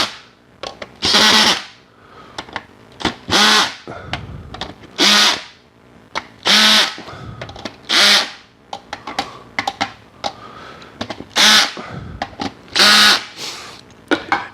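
A drill tightening a drum head buzzes in many short, quick bursts, starting and stopping repeatedly in an uneven rhythm, close and fairly loud.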